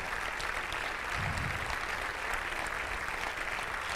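A church congregation claps hands in praise, giving a steady, fairly faint wash of applause that holds evenly throughout with no voices over it.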